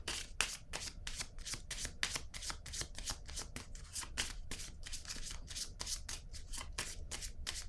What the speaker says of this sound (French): je vais piger une carte ici maintenant